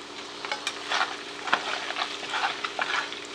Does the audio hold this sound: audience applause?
no